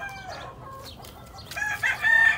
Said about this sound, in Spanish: Así como me gusta mirar el gallito rascando